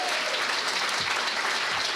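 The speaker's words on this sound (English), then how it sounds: "Please give a huge round of applause to the cast." An audience applauds the cast after a comedy show, a continuous, even roar of many hands clapping with no talk over it.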